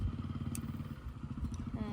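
Motorcycle engine puttering along a rough road near El Nido, Palawan, with quick rhythmic pulses and some clatter, heard close while a voice talks over it.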